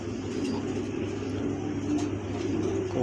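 A pair of pigeons coos softly amid a steady low background hum, with faint traffic-like noise throughout and no distinct voices.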